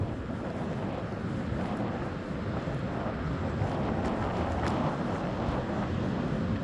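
Choppy sea waves breaking on the beach at Blackpool in strong wind, a continuous rough roar of surf mixed with buffeting wind against the microphone, with one louder surge near the end.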